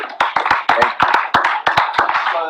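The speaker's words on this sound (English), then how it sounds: "Round of applause for Drake, ladies and gentlemen." A few sharp, close hand claps in an uneven rhythm for Drake, each one crisp and distinct over a background of overlapping voices and noise rather than a large crowd's continuous applause.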